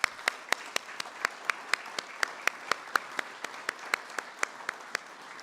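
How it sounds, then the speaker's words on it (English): An audience at a government event honoring immigration and border agents claps in a steady round of applause, sharp regular claps ringing out for several seconds with no talking. "I want to give them a quick round of applause."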